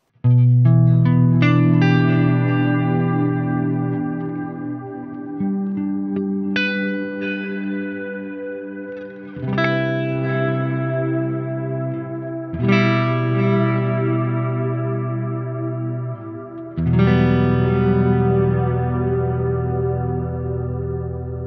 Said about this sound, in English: 43A is plucked echoes, a room, reverb, and it was the final preset here in the pedal that really captured my attention